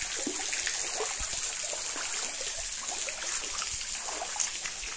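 Shallow water trickling and flowing at the Bigorna waterfall in Ibiapina, Ceará, a steady broadband outdoor rush with faint splashes, continuous and fairly near, no voices.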